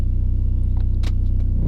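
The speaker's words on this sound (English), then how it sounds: "We've got some hardcore steering wheel shake." A BMW E46 with hardcore steering wheel shake while driving, a steady low rhythmic rumble and pulsing drone from the car, with a few faint clicks and rattles inside the cabin; no talking.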